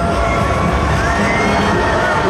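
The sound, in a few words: crowd cheering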